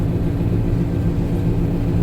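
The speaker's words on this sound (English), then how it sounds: "That is a Deutz air-cooled 913, the improved version over the 912. Air-cooled diesel." Deutz 913 air-cooled diesel engine running, a continuous low, throbbing drone, close and loud, steady with no break and no voices.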